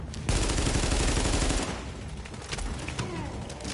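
Sustained automatic gunfire from an enemy in The Division, a loud rapid burst lasting over a second, then scattered shots and battle noise.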